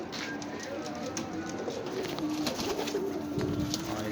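Ras breed pigeons coo steadily in a loft, low repeated throaty calls close by, with light rustling and faint background noise.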